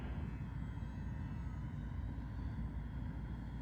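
Radio-controlled UMX P-47 model warbird flying, a steady faint electric motor and propeller drone heard from a distance, continuous and even with no talking.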